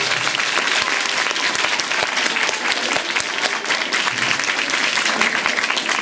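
An audience claps steadily and loudly throughout, a dense continuous wash of applause with no talking over it.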